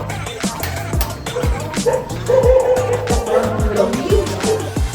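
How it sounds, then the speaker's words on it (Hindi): A dog barks repeatedly in a steady run of sharp, close barks at a home during a family festival celebration, with voices talking in the background. "बुआ के घर में डॉगी है, बुआ के पास डॉगी"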